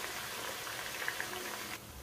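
Garden egg stew ingredients sizzle in hot oil in a pan, a steady close hiss of frying that cuts off near the end.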